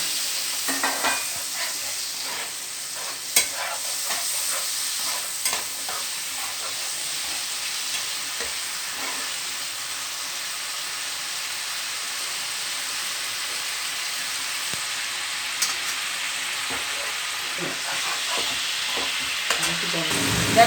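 A spice paste fries in oil in a pan while it is stirred, for Begun Kasundi. A continuous close sizzle runs underneath, with scattered spoon scrapes and clicks over about twenty seconds.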